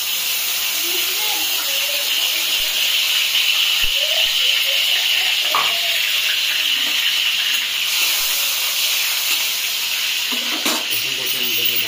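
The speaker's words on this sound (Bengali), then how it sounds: "সো ফার্স্ট অফ অল আমি এখানে তেলের মধ্যে দিয়ে দিচ্ছি রসুন কুচি" Chopped garlic sizzling in hot oil, a steady loud hiss that holds throughout, with faint clinks and a voice speaking underneath.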